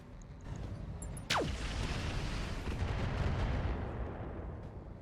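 Mech weapons fire at an enemy rifleman in the BattleTech video game mod Roguetech: a sharp, loud shot with a falling whine, then a sustained rumbling roar of fire and impact that slowly fades.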